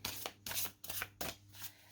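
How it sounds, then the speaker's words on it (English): Tarot cards being shuffled by hand, several quick riffling bursts in an uneven rhythm, close and fairly quiet with a faint steady hum underneath. "Let me shuffle again."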